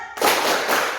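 A classroom of children bursts into one short, dense round of clapping, close and loud, lasting under a second after a brief silence.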